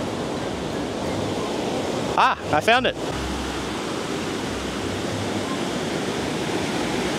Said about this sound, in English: Basically all I can hear here is water.